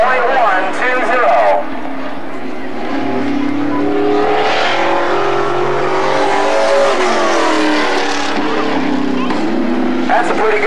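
Race truck number 7, driven by Jerry Kane, laps a race track with a loud, sustained engine roar that rises and falls as it passes, accompanied by a commentator's voice talking throughout.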